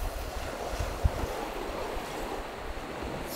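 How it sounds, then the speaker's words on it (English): A swollen, muddy main river rushes in Sarek after heavy rain, making a continuous broad roar of flowing water with wind noise and one brief low thump near the start. "Now we're back on the main river and the water level have going up a lot"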